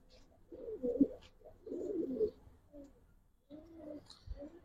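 Giribaz pigeons coo in low, throaty bursts, two longer rolling coos followed by softer repeated ones after a brief pause, close by in a pigeon seller's loft in Old Dhaka.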